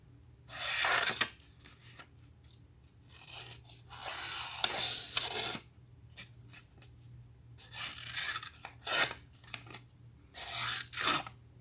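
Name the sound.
Rough Ryder Cub knife cutting a sticky note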